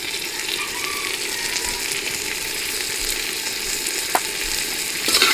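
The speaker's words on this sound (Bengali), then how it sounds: "মাছটারে ভালো করে ভাজবো মশলার" Fish sizzles and fries in hot oil with spices in a pan, a continuous crackling sizzle close by with a few clinks and stirring sounds toward the end, no voices.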